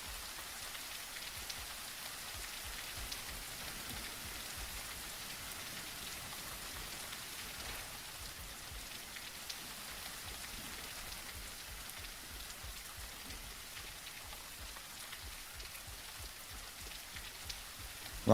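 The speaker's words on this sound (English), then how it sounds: "Rain sounds in this game are pretty good too." Steady rain falls in the dark fantasy video game Bleak Faith: Forsaken, a soft, even hiss of drops on surfaces with faint low patter, continuous and unbroken, with no voices.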